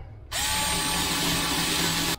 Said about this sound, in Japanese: 穴をちょっと上げて、仮穴。